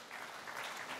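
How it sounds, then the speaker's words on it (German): Audience applause for award winners at the Wirtschaftspreis Altmark 2022 ceremony, a brief dense wash of clapping from a crowd, moderately distant and steady. "Ein Beifall für Anne Krüger und"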